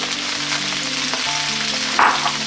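Onions fry in a pan with leftover bits from cooked sausages, giving a steady, loud, close sizzle throughout with a brief louder burst near the end.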